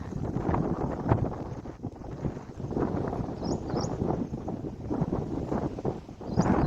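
Gusty wind buffeting the microphone in uneven rumbling surges, with no voices heard.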